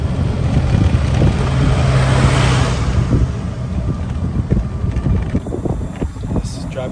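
Golf cart rolling along a course path toward a tee, a steady low motor rumble mixed with heavy wind buffeting the microphone, loudest early on then settling to a rougher, bumpier drone.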